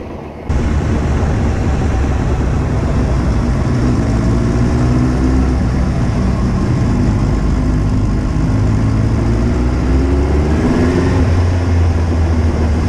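Steady motorbike engine drone while riding near Whitby Harbour on a group bike-night ride, loud and continuous throughout with a low rumble and shifting tonal whine, no talk.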